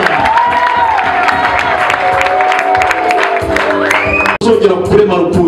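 A church congregation applauds and cheers in praise of God, loud sustained clapping and whooping from a large crowd, with voices and music-like tones ringing through it.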